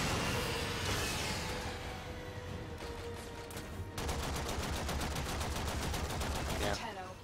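Enemies fire on a ship in Warframe, steady rapid gunfire bursts with a fast rhythmic machine-gun stretch near the end, loud and busy with someone talking over the battle.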